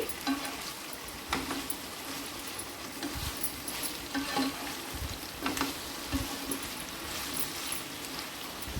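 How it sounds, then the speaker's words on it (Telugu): Bitter gourd fries uncovered in an open pan, a soft, steady sizzle with faint crackles and occasional stirring clatter, fairly quiet and without voices. "ఇదైతే బాగా ఫ్రై అవ్వాలి ముప్పావు భాగం ఫ్రై అయ్యే వరకు ఫ్రై చేసుకోవాలి మూత పెట్టకుండా ఫ్రై చేయండి"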